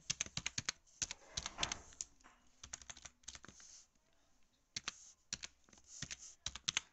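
Someone types C graphics code on a computer keyboard in quick, uneven bursts of clicky keystrokes with short pauses, close and fairly quiet.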